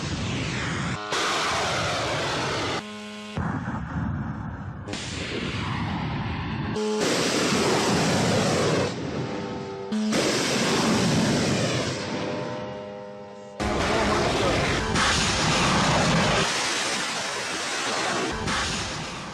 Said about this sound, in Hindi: तो ये फाइटर जेट्स की जो आवाजें हैं वो डराने वाली है